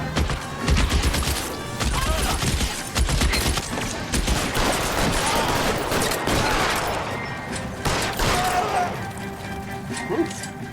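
Gunfire crackles in the L.A. Noire shootout, with dense overlapping shots, crashes and impacts. Game audio plays continuously and loudly, with a voice briefly heard beneath the barrage.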